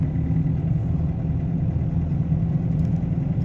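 A BMW E46 320d with worn bearings pulls uphill in second gear, its engine a loud, close, steady droning hum that holds an even pitch throughout, with no talking.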